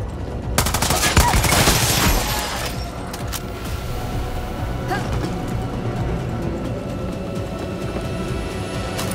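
Sustained machine gun fire from an MG42 in the video game Far Cry 6, a dense loud burst in the opening seconds that settles into continuous rattling gunfire and rumbling combat noise for the rest of the clip.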